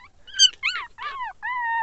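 Pinscher puppies whimpering and crying inside a car, four close high-pitched whines in quick succession ending in a longer drawn-out cry, with no voices.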